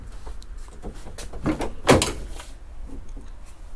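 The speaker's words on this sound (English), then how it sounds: "So we're gonna open these doors," Car doors on a 1996 Chevy Impala being opened in a home paint setup: a few muffled clunks and latch clicks bunched near the middle, fairly close, over a low steady background.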